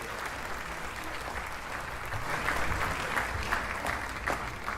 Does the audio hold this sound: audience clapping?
yes